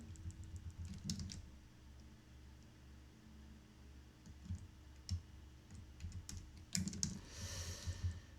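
A computer keyboard in use while coding, faint scattered key clicks and short bursts of typing over a quiet room hum, no talking.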